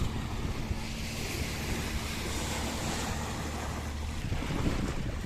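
Sea waves on a beach make a continuous rushing wash mixed with gusty wind buffeting the microphone. The sound is fairly faint and even throughout, with no voices.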